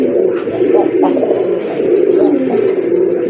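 A Rajgolla pigeon coos loudly and close by in a bird enclosure. The soft, throaty calls roll out one after another in a quick, repeating rhythm with no gaps between them.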